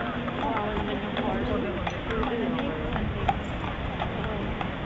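Horse hooves clip-clop in a steady, lively rhythm at a street parade, with crowd chatter and voices mixed in throughout.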